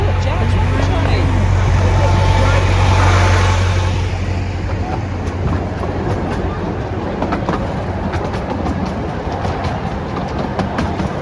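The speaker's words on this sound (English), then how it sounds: "Here comes the train." A train passes on a miniature lido railway through trees, a loud close rumble that gives way to rhythmic clickety-clack of wheels over rail joints, steady throughout with no clear talk.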